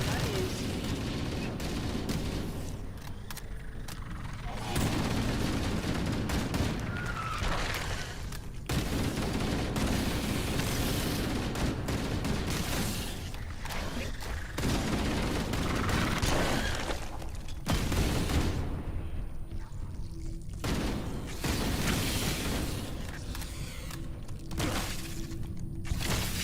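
Gunfire and impacts during a Halo Campaign Evolved battle, dense bursts of weapon fire with sharp crashes and explosions, loud and continuous across the scene with game dialogue mixed in.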